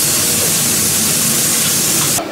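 A very large 27-kilogram whole fish deep-frying in a restaurant kitchen, giving a loud, dense, unbroken hiss and sizzle that fills the clip before cutting off abruptly at the end.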